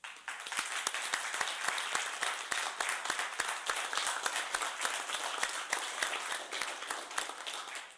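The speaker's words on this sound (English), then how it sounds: "they deserve a round of applause" A crowd applauds steadily, many hands clapping in a dense, sustained patter with no voices over it.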